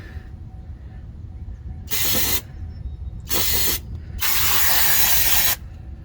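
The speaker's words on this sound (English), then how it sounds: "that's where that brake clean comes in" Brake cleaner sprayed from an aerosol can around the oil filter area of a 1988-1999 Chevy C/K1500 5.7 V8 truck, three sharp hissing bursts, the last longest, over a low background hum.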